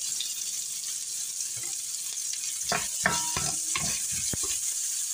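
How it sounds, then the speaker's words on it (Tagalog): Garlic goes into hot oil in a pan for Filipino palabok, a soft sizzle that swells as it is stirred, with a cluster of scraping and clattering stirs in the middle of the clip and no talking. "Iluto nyo yung bawang. Tostahin."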